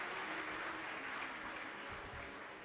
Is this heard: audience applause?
yes